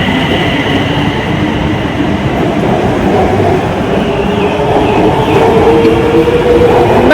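A metro train runs through an empty station in Chiang Rai, a steady loud rumble of wheels and motors throughout with a faint rising whine near the end.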